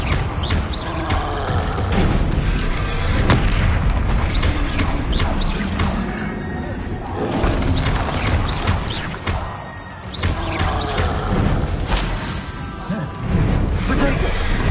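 Repeated Confringo fire spell blasts in the video game Hogwarts Legacy, booming and crashing one after another amid dense combat clatter, with a voice speaking over the action.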